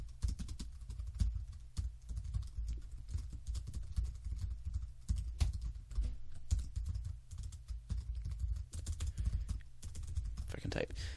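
Computer keyboard typing during a programming lesson on functions: quick, irregular clicking keystrokes in close, fairly quiet bursts throughout, with low background hum.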